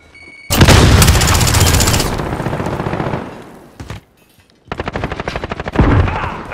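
A grenade blast and bursts of gunfire ring out in Call of Duty: Modern Warfare. A loud explosion decays into fading rumble, falls briefly quiet, then rapid automatic fire rattles close by.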